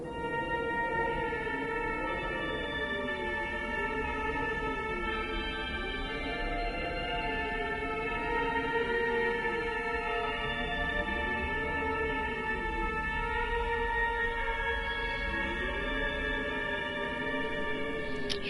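Moon song melody from the Fatal Frame IV video game, a slow sustained tune with wavering, gliding tones over a steady droning chord, playing continuously and fairly loud with no talk.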